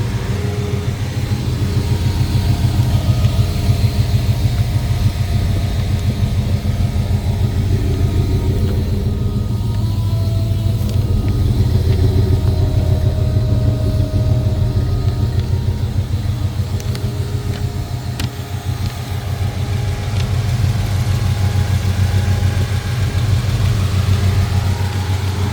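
A 1976 Ford F150 pickup truck's engine idles steadily and close up, a deep continuous rumble with a throbbing low-end pulse that holds evenly throughout, with no talking.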